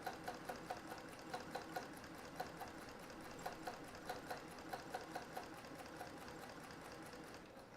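A sewing machine runs fast during free-motion quilting, giving a quiet, rapid, even chatter of stitches with regular ticking pulses throughout, heard alone without speech.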